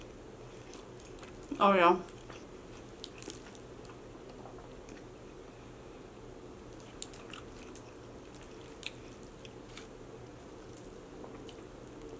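Someone takes a bite of Portillo's food close to the mic, one brief crunchy, squishy chew near the start, then mostly quiet room tone with a short spoken remark.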